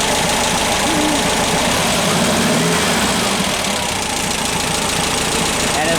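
An engine on a generator setup with an alternator and control panel runs steadily, a loud continuous mechanical rumble with a knocking, idling texture filling the space, with voices faintly present.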